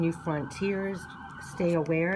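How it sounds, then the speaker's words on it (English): Sirens passing outside wail in rising and falling tones beneath a woman's speech, steady and moderately loud behind the talk throughout. "Sorry for the sirens."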